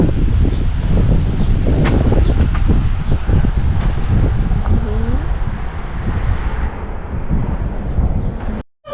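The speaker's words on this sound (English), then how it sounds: "It's windy." Steady wind gusts buffet the microphone in a loud, continuous rumble that eases off near the end.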